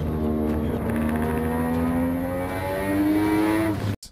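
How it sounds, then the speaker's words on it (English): A rotary Wankel engine car revs hard, its rising harmonic whine climbing steadily for nearly four seconds before cutting off abruptly, loud and close with no talking. "A rotary or Wankel engine wants to be driven like this."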